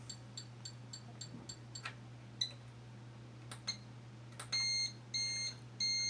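A homemade Arduino alarm clock with a joystick sounds its alarm as faint, evenly spaced high beeps, first in short pips and then in longer tones near the end, over a steady low hum in a quiet room.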